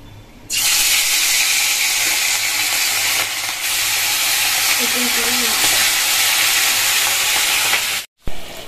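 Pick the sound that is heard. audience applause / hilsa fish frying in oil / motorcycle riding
hilsa fish frying in oil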